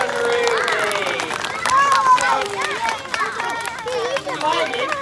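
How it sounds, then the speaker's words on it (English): Indoor applause for Ruby the macaw as she reaches the top of a climb, scattered clapping and crowd chatter under a speaking voice. "So a big round of applause when she gets to the top"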